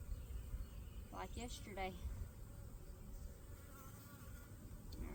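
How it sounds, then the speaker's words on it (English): Honey bees buzz around an open beehive as a beekeeper works the frames with a hive tool, a steady low insect drone under a brief spoken phrase. "Some bees wanting to hang out on my hive tool."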